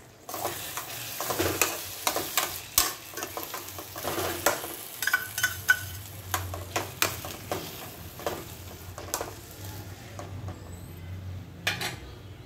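Green chilli sauce fries in a pan with steady sizzling and repeated stirring and scraping clicks of a utensil against the pan, close and moderately loud throughout, with no talking.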